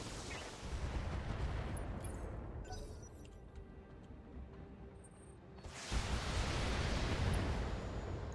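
Mech weapons fire in the BattleTech video game, with dense rumbling volleys of explosive blasts that give way to a quieter stretch before a second heavy barrage erupts, loud and sustained.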